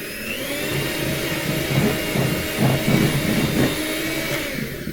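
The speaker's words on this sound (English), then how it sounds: "It's nice and soft, and I'm going to whisk it up." An electric whisk creaming 150 grams of soft butter in a mixing bowl runs as a steady motor whir for the full stretch, rising slightly in pitch and strain midway as it works through the butter.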